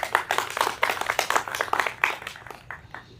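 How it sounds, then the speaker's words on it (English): A small audience claps for a student storyteller at a university storytelling showcase, a short burst of scattered, fairly close handclaps that tapers off within a few seconds. "So another round of applause, Jeffrey."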